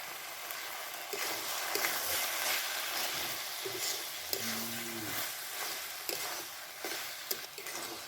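Ground spice paste frying with ash gourd in a pan: a loud, dense, continuous sizzle with occasional stirring scrapes and soft squelches, no speech.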